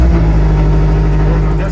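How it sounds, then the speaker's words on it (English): Race car engine for an endurance race turning over and catching, a loud close mid-pitched rumble with steady harmonic tone, brief and continuous, with a voice over it. "Foot on the brake, start the car."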